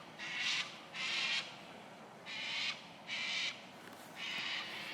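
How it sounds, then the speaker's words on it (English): Birds calling at sunset in open country, heard as five separate bursts of harsh, squawking calls about a second each, spaced fairly evenly over steady background noise. "So all these birds."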